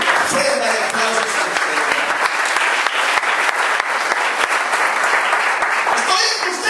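Church congregation applauding during a sermon, a dense, steady clapping that fills the room throughout, with a voice speaking faintly underneath.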